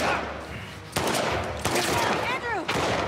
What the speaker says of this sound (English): Are you shooting, Luckless?